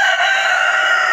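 A rooster crows loudly and close by behind a house near a river, one sustained strained call filling the whole moment.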